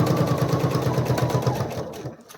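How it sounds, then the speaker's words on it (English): A sewing machine stitches quilt pieces together for a saturation quilt, giving a steady, close, rhythmic whir that runs without a break before slowing and stopping at the end. "I will now sew that. Just to show you me sewing it,"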